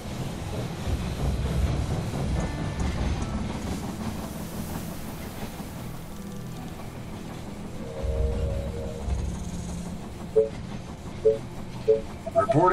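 A train rolls into a station in They Are Billions, a steady low rumble and clatter giving way to a few sharp metallic clanks and tones near the end, heard alone without talk.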